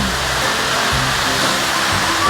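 Cloudland Canyon waterfall, one of the bigger falls in the canyon, roars as a steady, loud broadband rush of falling water that holds constant, with low rumbling swells underneath and no voices.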